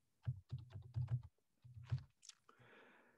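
A few keystrokes on a computer keyboard while entering a chapter title in REAPER audiobook recording software, a short burst of close, fairly quiet clicks.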